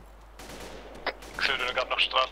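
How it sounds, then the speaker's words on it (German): AK rifle fire in an online shooter game, several quick sharp shots in a short burst at moderate loudness, with faint talk underneath. "Die Schüsse hören sich ziemlich nah an."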